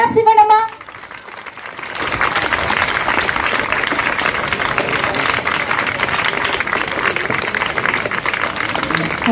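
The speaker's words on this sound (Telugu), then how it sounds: "క్లాప్స్" An audience at a school event claps steadily for several seconds after a brief spoken announcement, the applause even and moderately loud with voices mixed underneath.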